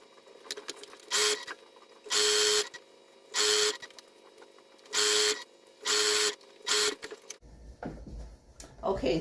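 Sped-up sewing machine stitching joins fabric pieces in a series of about seven loud, evenly spaced whirring bursts separated by brief quiet gaps, ending in a low rumbling tail.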